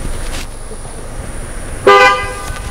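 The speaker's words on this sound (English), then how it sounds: "How you know I was honking the horn at you, though?" A car horn gives one short, loud honk near the end, preceded by quiet street background without talking.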